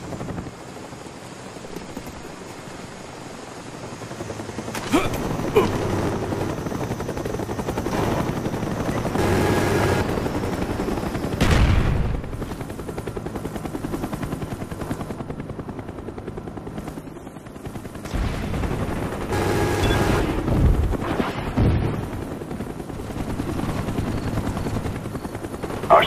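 Attack helicopter rotor drone in a Black Ops first-person shooter match, a steady loud whir throughout with occasional sharp bursts that may be gunfire or explosions layered over it.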